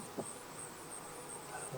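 Honey bees buzz around an opened Langstroth hive during an inspection, a faint, steady high-pitched drone with a few brief nearer passes of individual bees.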